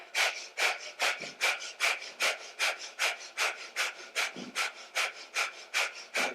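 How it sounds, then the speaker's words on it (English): Rapid yoga breath-of-fire breathing: about sixteen sharp, forceful nasal exhales in a steady quick rhythm, close and clear with passive inhales between, no talking. "So sharp exhales through your belly as they pump in, and then sharp exhales out your nose."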